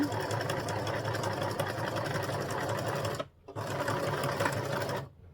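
A small domestic sewing machine stitching fabric, a loud, steady motor whir with needle chatter that stops briefly twice before restarting.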